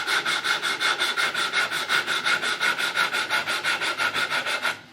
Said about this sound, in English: Sand a little, have a look. Sand a little, have a look.